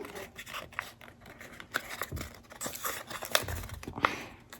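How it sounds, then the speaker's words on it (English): Paper flap folded and creased by hand while building an infinity flexagon, a series of close, dry crinkles, scrapes and soft crisp snaps scattered over a few seconds, no voices. "Gonna fold that flap down"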